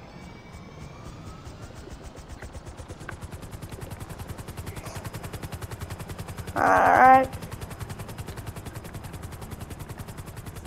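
A helicopter flying in GTA V, with a steady rapid rotor chop droning throughout, a brief louder burst midway and a short spoken word.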